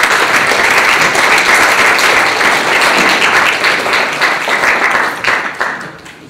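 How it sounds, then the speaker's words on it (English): An audience at a talk on slavery and the death penalty applauds for a guest speaker, a loud, dense, sustained round of clapping that runs for several seconds and then tapers off near the end. "let's give him a round of applause."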